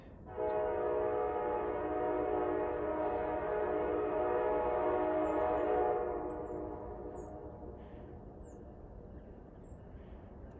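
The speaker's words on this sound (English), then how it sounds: "Yeah, the train." A Norfolk Southern freight train sounds its horn in one long, loud chord lasting several seconds, then fades as the rail rumble continues faintly, with birds chirping in the distance.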